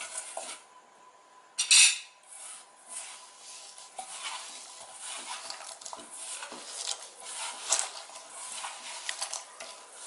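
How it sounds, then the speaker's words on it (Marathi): Soya chunks are mixed with ginger garlic paste by hand in a bowl, giving a steady soft squishing and rubbing with one sharper clink near the start. No voices. "हाताने पूर्ण कालून घ्यायचे चांगलं एकदम."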